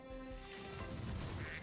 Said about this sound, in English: Oh, look at that duck!